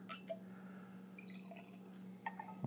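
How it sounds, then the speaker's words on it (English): Kings County straight bourbon whiskey pours from a small 200 ml bottle into a glass, giving faint trickling and dripping liquid sounds over a steady low hum, with a few small clinks near the end. "So let's go ahead and pour us a little bit here."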